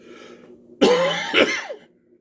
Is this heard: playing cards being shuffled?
no